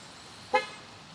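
A single short, bright toot from a toy car horn at a children's park, quick and fairly faint against quiet outdoor background.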